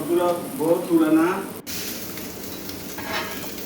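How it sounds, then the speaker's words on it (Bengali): Fish fries in a little oil on a tawa, giving a steady, gentle sizzle. A voice talks over it at first, and the frying then continues on its own. "তাওয়ার মধ്যে একটু তেল দিই তারপর মাছ দিয়ে দিয়েছি"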